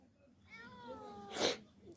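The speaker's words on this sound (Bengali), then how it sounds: "ম্যাও ম্যাও করো না রে।" A cat meows once in a drawn-out, rising-and-falling cry inside a building housing an indoor tilapia fish farm in Dubai. A sharp, noisy burst follows, and the whole sound is fairly quiet and close.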